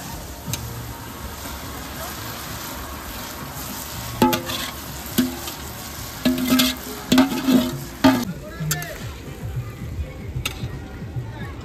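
Fried vegetables for a mixed-veg dish sizzle steadily in a pan at an outdoor picnic cookout, with a burst of scraping stirs and clattering utensil knocks through the middle, then sizzling continues more quietly.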